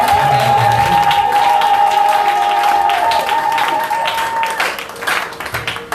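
A church congregation claps and cheers together during a worship service, the applause dense and sustained throughout, with a sustained tone beneath it.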